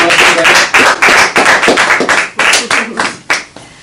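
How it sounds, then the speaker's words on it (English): A small group claps loudly and close by at an evening orientation training session, the individual hand claps distinct and uneven over about four seconds, with no talking. "let's give a round of applause to our associate Sarah Bryant"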